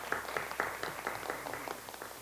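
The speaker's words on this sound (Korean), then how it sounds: "한 분 한 분 호명될 때마다 큰 박수로 응원 부탁드리겠습니다." Faint, steady applause from an audience at a political party youth launch ceremony, a dense patter of many hands clapping at a distance, quiet and continuous.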